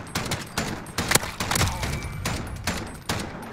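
Desert Eagle pistol shots in a competitive first-person shooter game, a rapid series of sharp cracks and bursts spaced through a few seconds, loud and close.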